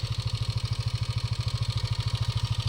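Small motor engine idling close by, a fast, even chugging pulse repeating steadily at moderate loudness with nothing else over it.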